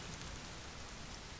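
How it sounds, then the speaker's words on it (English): Steady rain falling in the survival video game The Forest as night sets in, a constant soft hiss with no voices over it. "We have to cook it again? Just because of the rain?"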